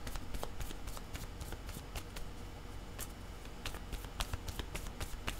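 Playing cards shuffled repeatedly at close range, with a steady riffling texture broken by sharp snapping bursts, heard alone without speech.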